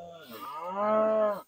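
A single long moo from pasture cattle, loud and near, rising and holding steady before cutting off, with no talking.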